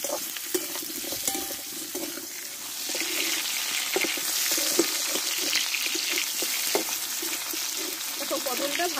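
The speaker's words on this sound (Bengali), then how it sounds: "অল্প আছে, ধীরে ধীরে পটলটা আমি কষতে থাকবো।" Pieces of pointed gourd sizzle and fry steadily in hot oil in a home kitchen, a loud continuous crackle with occasional stirring clatters and no voices.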